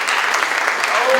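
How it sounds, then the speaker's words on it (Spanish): A loud, dense burst of audience clapping at a brain-and-heart science conference, sustained and close, with voices faintly mixed into the clapping. "Un fuerte aplauso para él"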